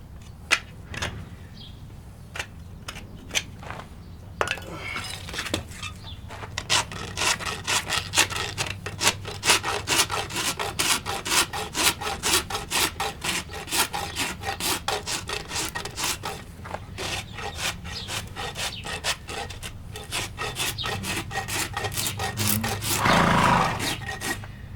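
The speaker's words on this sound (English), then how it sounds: "when you can't cut it with a knife, you can generally always rasp it off." A rasp scrapes a horse's hoof in quick, steady rhythmic strokes over about twenty seconds, a close, gritty rubbing pattern with short pauses near the start.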